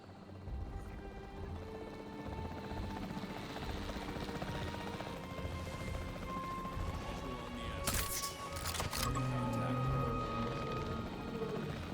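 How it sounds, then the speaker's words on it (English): Video-game capture team helicopter in Jurassic World Evolution 3, a continuous rotor drone throughout with a couple of sharp impact-like bursts partway through, no talk over it. "The priority needs to be tranquilizing it with the capture team chopper."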